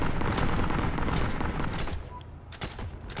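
Gunfire aimed at tanks in the video game Heroes and Generals, a dense burst of rapid shots followed by a few separate sharp reports as it thins out.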